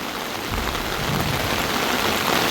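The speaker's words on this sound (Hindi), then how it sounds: "बिल्कुल मूसलाधार बारिश पड़ रही है।" Heavy monsoon rain in Haridwar or Rishikesh pours down in a dense, constant hiss, loud and close, with no pauses.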